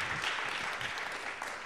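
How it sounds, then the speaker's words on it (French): Audience claps for two speakers at a corporate learning conference, a steady, moderately loud spread of applause lasting the whole moment without speech. "Vous pouvez en effet tous les deux les applaudir."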